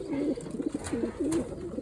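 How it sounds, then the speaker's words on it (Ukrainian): A white male pigeon coos repeatedly in a soft, rolling rhythm, several throaty calls close together and fairly near. "І вон там далі воркує самець"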